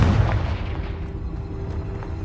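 A fiery Confringo spell explosion from the video game Hogwarts Legacy lands with a single heavy boom at the start, then a rumbling tail fades under a steady game soundscape.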